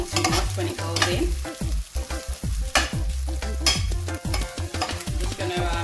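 Ackee and plantain stir-frying in a hot pan, a loud, close sizzle with repeated scraping and clattering stirring strokes, the frying steady underneath throughout.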